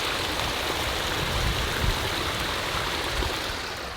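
A waterfall in a newly built aquascape pond pours steadily, a dense, even rush of falling water heard up close with no voices.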